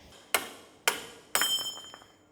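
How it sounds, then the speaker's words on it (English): Three sharp metallic hammer blows on a bolt in the track housing of a Canadian Ram Kangaroo armoured vehicle, spaced about half a second apart, close and ringing, the last leaving a longer resonant clatter. "I need to go get the bigger hammer."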